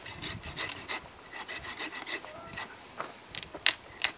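A hand saw cuts through a tree branch during pruning of a young plant, a rapid series of rasping strokes at close range with brief pauses, faint panting and movement underneath.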